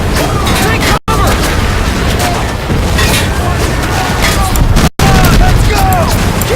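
Battle gunfire in Medal of Honor Pacific Assault: loud, continuous shooting mixed with heavy booms, with shouting voices over the din and two brief dropouts in the sound.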